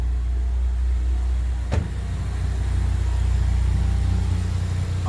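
A 2018-2021 Ford Mustang EcoBoost engine, just refitted after intercooler and coolant work, runs at a steady, loud, low idle, with one brief clunk near the start and no talking.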